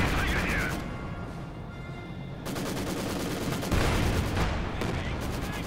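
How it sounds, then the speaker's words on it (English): Machine gun fire in Company of Heroes 2, an MG42 trading bursts with a Maxim, dense rattling volleys with sharp impacts and booms, continuous and loud throughout. "we've got an MG42 from the Russians fighting a German Maxim"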